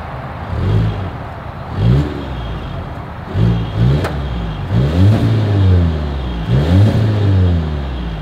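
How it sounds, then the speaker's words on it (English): A 2022 Volvo XC60 B5 SUV engine revs repeatedly through its exhaust, several loud rising bursts about a second apart over a steady idle rumble. "As always, here is that exhaust clip."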